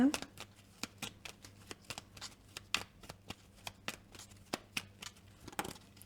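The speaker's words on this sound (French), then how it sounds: "tirer les meilleures cartes qui correspondent vraiment à vos énergies de ce week-end" Tarot cards are shuffled and drawn by hand, a quick run of crisp, evenly spaced slaps and flicks close up over a quiet background.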